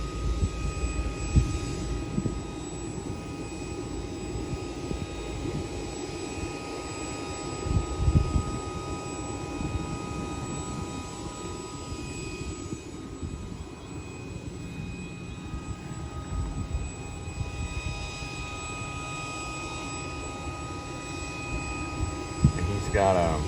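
A Chinook helicopter turns over during ground checks, its engines and rotors giving a steady whining drone with faint rhythmic thumps, while someone talks over the noise throughout.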